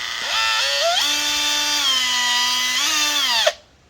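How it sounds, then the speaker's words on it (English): A power drill drilling out bolts during an Ecotec engine rebuild whirs up to speed, holds a high steady whine for a few seconds, then winds down and stops abruptly. "we'll just drill this out and then hopefully put the new one in."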